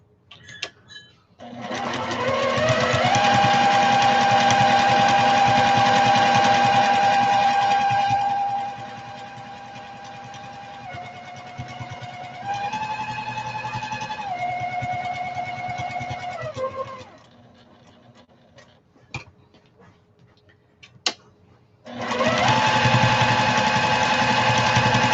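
A sewing machine top stitches a fabric shopping bag, its steady motor whir running in long bursts, pausing and shifting pitch midway, then falling quiet before starting up again near the end.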